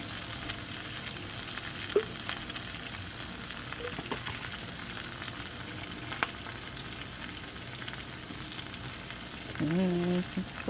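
Yellow squash and onions sautéing in a pan with salt and pepper, giving a steady, moderate sizzle and frying crackle throughout, with a few brief utensil clicks and a short tonal sound near the end.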